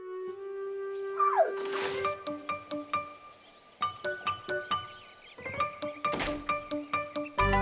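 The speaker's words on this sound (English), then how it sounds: "a lovely little dog, and she is certainly an important part of nature" A cartoon dog in a classic animated children's show, heard as a brief rising whine or howl followed by repeated yips and barks set against bright chiming background music.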